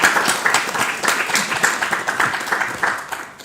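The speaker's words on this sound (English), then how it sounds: "Big round of applause." Applause from an audience at a literary festival author event, brisk clapping with distinct claps audible through the crowd, fairly loud and close, continuing throughout.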